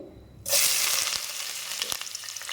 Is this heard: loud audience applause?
no